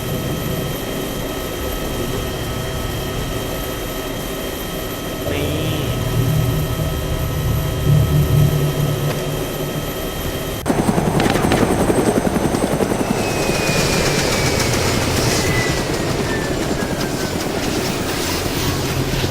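Helicopter in the DayZ game comes in to land at an airfield: a loud, steady rotor and turbine drone that shifts into a heavier, broader roar midway, continuing alone without talk.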